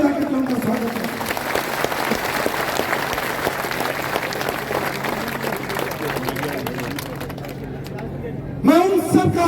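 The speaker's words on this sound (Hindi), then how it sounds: "वो खड़े हो और उनके लिए तालियां बजा के उनका स्वागत करें।" Crowd at a Didwana political nomination rally claps to welcome a party worker, sustained applause with a voice speaking over it before a loudspeaker voice cuts in near the end.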